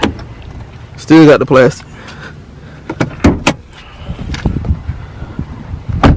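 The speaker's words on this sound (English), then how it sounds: "Let me pop the hood for you guys so you guys look." The hood of a Dodge with a 6.4-liter engine is released, giving a couple of sharp clicks and a dull thud while someone talks nearby.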